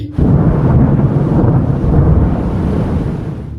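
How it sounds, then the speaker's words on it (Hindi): A deep, loud rumble of thunder rolling continuously, heavy low-end roar that slowly fades near the end. "बादल बहुत जोर जोर से गरज रहे थे"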